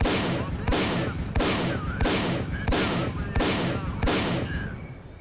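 An upgraded weapon firing in S.T.A.L.K.E.R. Clear Sky, seven loud, evenly spaced shots, each with a sharp crack and a short echoing decay, with no talk over them.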